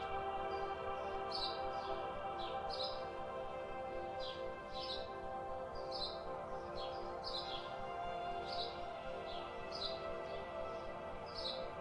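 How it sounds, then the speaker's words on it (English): Birds chirp repeatedly in short, regular bursts over a steady background hum in a field, fairly faint and distant, with no talking. "Maybe you hear some birds."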